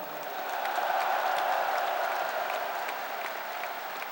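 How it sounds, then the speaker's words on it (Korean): Convention hall crowd at the 2007 Grand National Party presidential nominating convention applauding the newly chosen candidate, a steady, dense wash of clapping that swells slightly and holds throughout without talk. "우리 저 새 후보에게 박수로 격려해 주시길 바랍니다"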